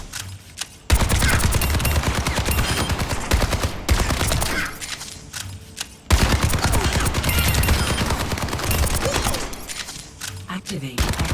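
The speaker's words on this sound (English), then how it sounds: "Now, activate your tactical visor and destroy the trainers." Soldier 76's rifle fires long rapid automatic bursts with tactical visor active in an Overwatch 2 training range, loud and continuous with short pauses between strings of shots.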